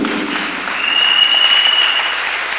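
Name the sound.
audience applause in church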